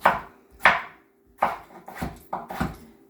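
A knife chopping deer meat on a board for a Guyanese-style curry, six sharp close thuds in an uneven rhythm with short pauses between them.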